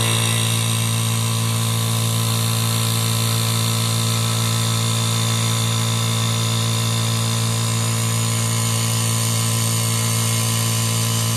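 A 2024 Vevor oil-free air compressor runs steadily as it builds pressure, its motor a loud, constant droning hum with a strong tonal whine that holds unbroken from start to finish.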